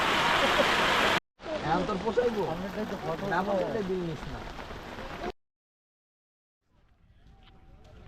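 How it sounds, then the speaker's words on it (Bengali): Heavy rain near a waterfall, a dense steady hiss loud at the start and continuing under people talking, then cutting off abruptly into silence. "প্রচুর বৃষ্টি আসতেছে বৃষ্টির মধ্যে আমরা এখন পালাচ্ছি"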